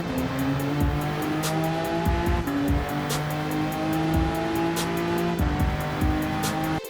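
Race car engine in Gran Turismo 7 at Autopolis, a loud, steady whine that rises in pitch as it accelerates, with brief dips at gear changes and some tire noise underneath.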